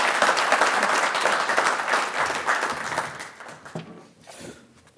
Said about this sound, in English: So anyway, big round of applause.